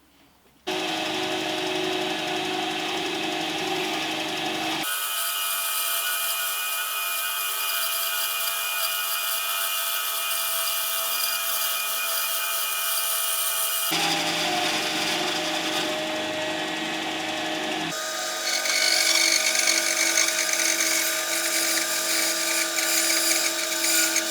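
Hand sawing through wood to slice a guitar headstock veneer, a continuous loud rasping cut that shifts pitch between sections and grows harsher toward the end, with no talking.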